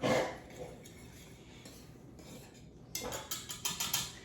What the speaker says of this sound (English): I'm going to get a whisk and I'm just going to whisk that together, blend that all together like that into the flour.